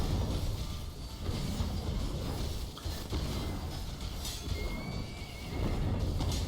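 A horse mount neighs during a guild war battle in the video game Where Winds Meet, a whinny standing out within a dense, loud bed of clattering game sound.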